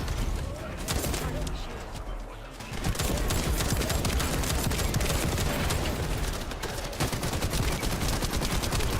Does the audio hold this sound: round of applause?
no